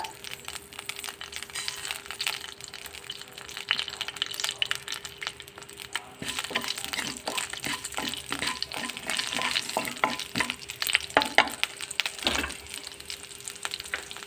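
Mustard seeds and cumin fry in hot oil in a kadai, a close crackling sizzle with rapid popping and spattering that grows busier, plus occasional stirring scrapes and no talking.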